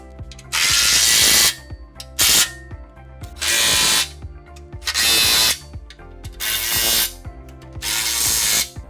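A power tool tightens skid plate bolts on a 2016-2021 third-generation Toyota Tacoma, with six loud bursts of ratcheting whir, each about a second long, separated by short quiet gaps.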